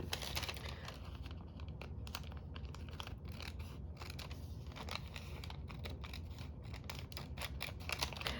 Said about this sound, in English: if you don't like the sound of crinkling paper,